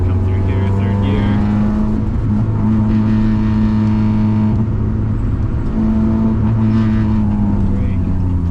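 A car engine holds a loud, steady drone in 3rd gear through a corner, with the pitch swelling and easing as the throttle changes and someone talking throughout.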